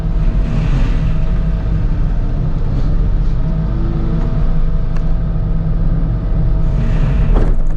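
The engine of a big machine fitted with a mulcher runs in the video game Trailmakers. It gives a loud, continuous low rumble that holds a near-constant speed, with a slight rise toward the end.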